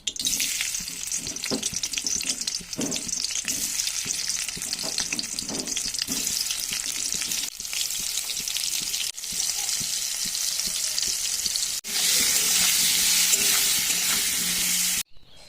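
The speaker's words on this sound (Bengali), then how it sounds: "আলুগুলো দিয়ে ভালো করে ভেজে নেব।" Peeled boiled potatoes fry in hot oil in a kadai, giving a steady loud sizzle with occasional stirring scrapes, and the sizzle grows brighter and stronger near the end.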